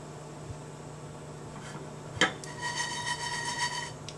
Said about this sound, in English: Really basically just going to shake them in the pan until they start turning golden brown